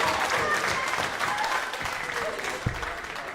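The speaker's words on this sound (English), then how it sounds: "The crowd show their appreciation." A darts crowd on finals night bursts into loud, sustained applause after a near-perfect finish, the dense clapping mixed with scattered cheers and voices throughout.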